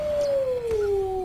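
A single wolf howl in the fantasy game Lord of the Rings Online, one long sustained tone gliding slowly downward for over a second, clear and prominent against a soft ambient game background.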